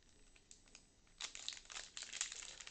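Crinkling plastic foil wrapper of a Riftbound trading card booster pack being torn open by hand, quiet rustles at first, then a louder, continuous crackling tear in the second half, heard alone.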